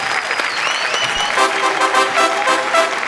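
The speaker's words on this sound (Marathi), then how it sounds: "जोरदार टाळ्या गुरदीप कौर याच्यासाठी." A studio audience at a Marathi television comedy show applauds a contestant with continuous, fairly loud clapping mixed with crowd noise and a brief musical flourish at the start.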